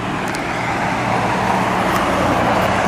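Street traffic along Fullum Street in Montreal's Ville-Marie borough, including a refrigerated truck with a reefer unit above the cab, as a steady broadband roar of passing vehicles, near and fairly loud, with no speech.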